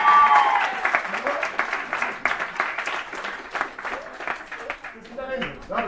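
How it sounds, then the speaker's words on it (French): Audience at a Paris stand-up comedy night applauds a comedian, a steady wash of clapping that thins toward the end while talk carries on over it. "on peut l'applaudir"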